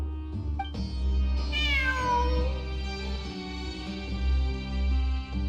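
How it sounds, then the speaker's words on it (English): A cat in the video game Genshin Impact gives one drawn-out meow that slides downward in pitch, heard over a low, steady ambient hum and soft background tones. "I'm not hearing things. It really is a cat."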